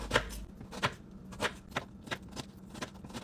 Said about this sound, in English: you want to slice them into super thin slices like this